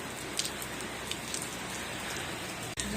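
Steady rain falls on a surface outdoors, a dense even hiss with scattered louder drops, continuous and fairly close, with no voices.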